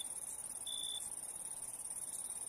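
Crickets chirping at sunset in the wild, a steady high-pitched trill that stays even and continuous throughout at a soft, moderate distance, with no voices over it.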